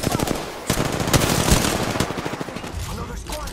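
Rapid automatic gunfire from an enemy squad in Apex Legends, dense bursts of shots rattling throughout at close-to-mid range, with a voice briefly audible underneath.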